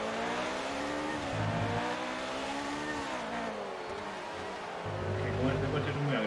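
A racing car engine in the video game F1 2019 drones and shifts pitch as it revs and eases, loud and continuous for several seconds, with a tonal whine riding over a low rumble.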